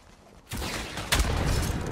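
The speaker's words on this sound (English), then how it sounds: "Hits him with the rocket." A rocket strikes a player amid gunfire during a Rogue Company duos tournament match: a sudden blast of noise, then a second, louder burst of rapid fire overlapping it in a short, dense clash.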